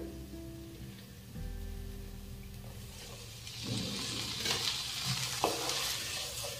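Peas stirred into a frying masala for matar paneer, a soft sizzle that swells into a brighter, louder crackle as the spoon scrapes and stirs through the pan, close up, with no talking.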